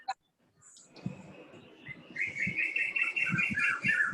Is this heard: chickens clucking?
no